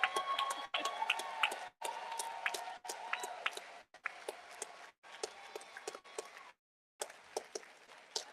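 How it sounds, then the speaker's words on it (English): Rally crowd at a voting rights event clapping and cheering in bursts, with sharp claps and whoops broken by brief pauses and one full silence, moderately distant and not very loud. "I want y'all to keep clapping"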